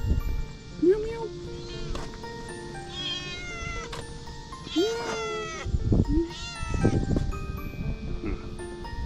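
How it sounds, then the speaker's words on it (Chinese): A cat meows several times at close range with rising, plaintive calls spaced a few seconds apart, while people talk nearby. "喵喵。"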